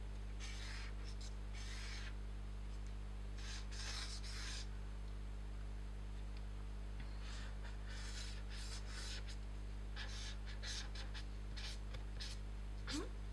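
A pencil on paper while a head profile in profile view is drawn and corrected, giving soft, close rubbing and scratching strokes in short bursts over a steady low hum.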